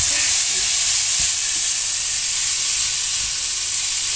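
Ground beef frying without oil in a non-stick pan, a steady, close, dense sizzle that continues evenly throughout with no one talking.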